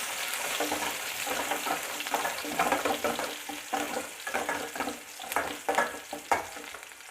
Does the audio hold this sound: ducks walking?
no